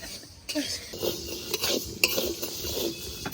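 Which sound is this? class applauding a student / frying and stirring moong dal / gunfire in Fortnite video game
frying and stirring moong dal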